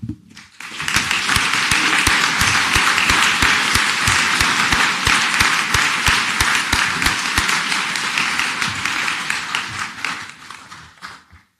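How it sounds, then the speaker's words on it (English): A large audience at a university conferring ceremony applauds graduates, loud sustained clapping from many hands that starts abruptly, holds steady for about ten seconds, then tapers off. "Can I call on the graduates of the Bachelor of Science Honours in Furniture and Wood Technology class, please stand for your applause"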